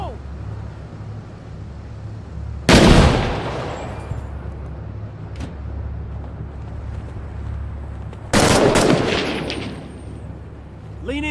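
A C4 charge on a time fuse detonates in the Six Days in Fallujah combat video game: two loud, sharp blasts several seconds apart, each rolling into a decaying rumble over steady background noise, with a faint click between them.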